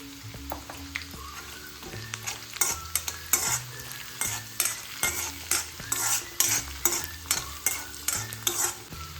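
Onion and asafoetida frying in a pan for prawn bhujane, stirred in a regular rhythm of loud scraping strokes over a constant sizzle, close up.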